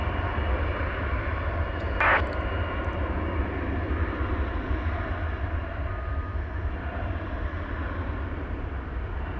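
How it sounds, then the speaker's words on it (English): Steady, loud jet engine roar from an American Eagle Embraer 175 airliner on the runway at DFW Airport at night, a continuous broadband rumble with deep low-end weight and a brief higher click partway through. "Here's American Eagle Flight 3614. It's going to Amarillo, Texas. This is an Embraer 175"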